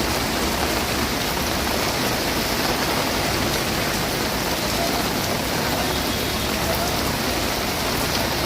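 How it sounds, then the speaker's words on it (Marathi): Heavy unseasonal rain pours down steadily in Karjat, a dense continuous wash of hiss from close by that holds even throughout, with no voices. "कर्जतमध्ये देखील आता जोरदार पाऊस सुरू झालेला आहे"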